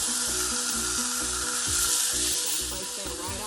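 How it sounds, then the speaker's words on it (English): A pot roast searing in a skillet with olive oil and butter, a loud continuous sizzle with faint scraping of a utensil, no talk. "I'm just gonna add it right on into my skillet here with the olive oil and a little bit of butter."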